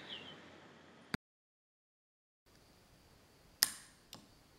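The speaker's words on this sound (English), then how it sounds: "so you'll just hear a small click" The solenoid of an unloaded, Bluetooth-triggered cannon gives a small, sharp click, with a couple of other faint taps around it against quiet background hiss.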